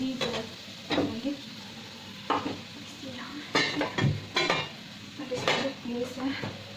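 Garlic frying in a home kitchen pan with chopped vegetables about to go in, a faint low sizzle under repeated sharp clinks and scrapes of a utensil against the pan.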